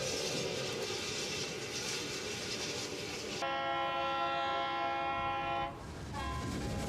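A steam train runs on a single-line railway in New England, a loud continuous rumble with a long sustained whistle in the middle before the rolling noise returns.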